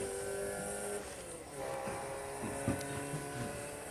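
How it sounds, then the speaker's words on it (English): Ferrari engine sound effect played in a demonstration, a steady mid-volume motor drone with revving swells and a brief sharp accent near the end, under faint background noise. "That's Ferrari engine sound, not from wheelchair."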